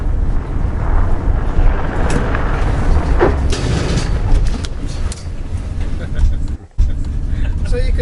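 A 2015 Mercedes-Benz Sprinter van drives at about 30 mph, with a loud continuous engine and road roar heard from inside and occupants talking throughout, ending in a brief jolt and dip near the end.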